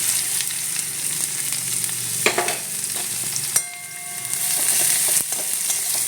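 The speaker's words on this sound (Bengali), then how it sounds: "তো তেল গরম হয়ে গেছে এবার আমি একটু পেঁয়াজ দিয়ে দেবো" Chopped onion hits hot mustard oil in a wok, a bright, close sizzle broken by a few sharp clatters and a surge of spitting as the onion goes in.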